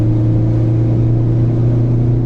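Ford Focus ST engine pulling steadily uphill at around 70,000 miles, a loud, even mid-range drone with a strong low hum held throughout, no voices over it.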